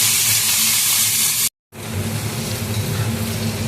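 Potatoes fried until reddened, sizzling hard in hot oil in a pan, then mung dal added to the pan; a loud, bright, steady hiss that breaks off for a moment and resumes as a lower, rumbling fry.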